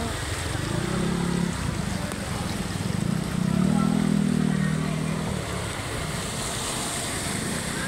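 Flood water overflows Bagumbong bridge in Caloocan during Typhoon Carina. The rush is broad and continuous, with a low swelling rumble that surges twice, and a voice talks over it briefly.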